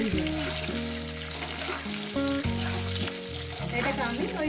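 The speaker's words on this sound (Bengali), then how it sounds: "এটাকে আমি ওই 4-5 মিনিট করে ভেজে নেবো বন্ধুরা" Bhangan fish with potato and eggplant frying in a pan, a steady close sizzle running throughout, with a continuous tonal hum sitting underneath the crackle.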